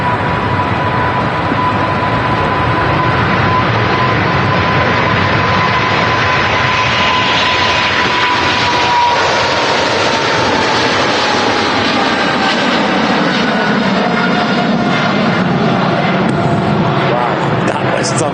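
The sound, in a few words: Emirates Boeing 777 jet taking off from Manchester Airport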